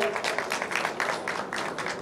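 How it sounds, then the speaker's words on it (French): A round-table panel audience at a forum on Mali's economy applauds, a steady wash of many hands clapping for about two seconds, fairly loud and continuous. "On les applaudit bien fort."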